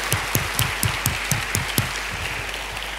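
A church congregation claps in a steady rhythm, with sharp, regular beats about four per second riding over a sustained wash of applause before the rhythm loosens toward the end.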